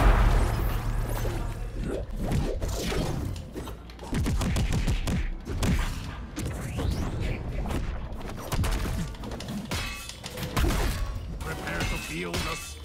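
Video-game explosions and combat impacts from Friday the 13th come in dense, loud bursts. Booms, crashes and rapid blasts are packed together with brief dips between them, alongside a player's talk.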